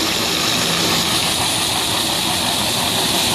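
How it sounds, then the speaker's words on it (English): A coating removal machine runs during a deck restoration repair job, a loud, continuous broadband engine roar with hissing grind that stays steady and close the whole time, no voices. "right now doing a coating removal, like the coating removal heads."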